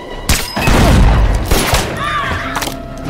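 Gunfire and heavy impacts from a film shootout, a loud burst of shots followed by booming thuds and scattered cracks, dense and close.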